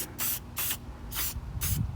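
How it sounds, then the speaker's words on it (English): Four quick hissing bursts from a spray bottle of cleaner on a Duramax truck outdoors, evenly spaced and close. "What I do is just spray it."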